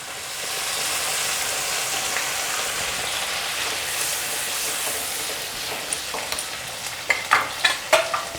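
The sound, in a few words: spinach paste added to frying tomato paste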